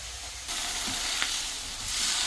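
Lumpia fry in hot oil with a steady, close sizzle and hiss that swells slightly partway through. No voices are heard.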